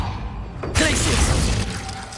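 The Glacius ice spell cast in Hogwarts Legacy: a sudden bright, crackling shatter bursts in under a second and then rings on as a dense icy hiss, with a voice present over it.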